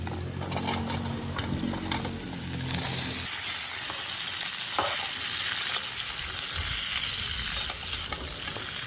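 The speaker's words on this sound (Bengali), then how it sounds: "এবার কেটে রাখা ডাঁটা, ঝিঙে এবং কাঁচা লঙ্কাগুলো সব দিয়ে দেবো।" Drumstick, ridge gourd and green chillies sizzle and crackle steadily in a hot pan, with a low humming tone at the start that fades out, and occasional utensil clicks.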